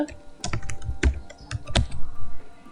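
Computer keyboard keys pressed in quick irregular clusters, crisp close clicks with a few sharper strikes like the Enter key, with no talk.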